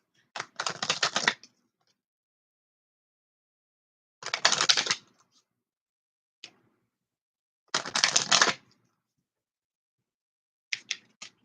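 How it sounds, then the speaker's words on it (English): Oracle cards being shuffled, heard as three crisp riffling bursts, each about a second long, with long silent gaps and a few small taps between them. "So we'll go ahead and get a couple shuffles."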